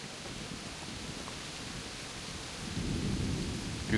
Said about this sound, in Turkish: Günlerdir yağmur yağıyor lan.